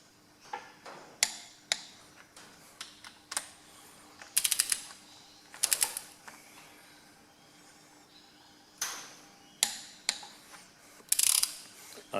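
A torque wrench ratchets in short bursts of rapid clicks, separated by pauses, while the cylinder head bolts on a Ferguson TE20 tractor are tightened; close and clear in a quiet workshop with a faint background hum.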